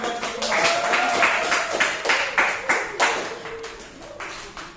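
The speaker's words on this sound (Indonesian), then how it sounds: "Bagi tepuk tangan." A classroom audience claps after a student presentation at school, a dense, steady patter of many hands close by that keeps going and gradually thins toward the end.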